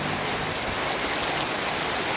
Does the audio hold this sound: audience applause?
no